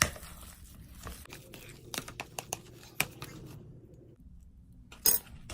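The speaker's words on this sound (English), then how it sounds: "I'm only using a fork right now to kind of mix it up" A fork scrapes and clinks against a bowl while mixing mozzarella and cream cheese for keto pizza dough, with scattered sharp metallic taps and soft mashing sounds beneath quiet talk.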